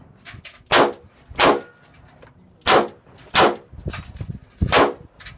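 Pistol shots at an action pistol competition: about six loud, sharp cracks fired in pairs and singles at irregular intervals, each with a brief ringing tail, close to the microphone.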